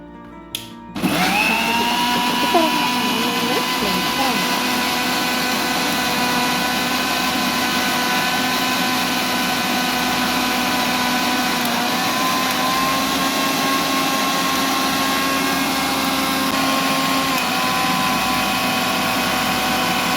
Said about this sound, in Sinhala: දැන් බ්ලෙන්ඩ් කරන්න තමයි සූදානම් වෙන්නේ